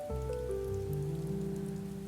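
Raindrops patter on a glass window pane in a soft, continuous spatter, close and gentle, with a low sustained musical tone running beneath.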